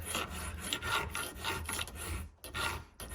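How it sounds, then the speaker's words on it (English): A bronze washer is filed down to thin it, heard as close rhythmic rasping strokes, roughly six back-and-forth passes in steady succession with a brief pause near the end. "this my washer is a little too thick, so I'm gonna just file it"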